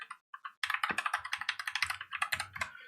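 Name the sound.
typing on a computer keyboard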